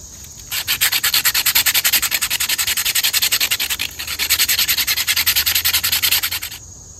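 A knife blade scrapes tinder from a jute fire roll outdoors in the woods, giving loud, rapid, rhythmic rasping strokes close up, with one brief pause midway and no talk.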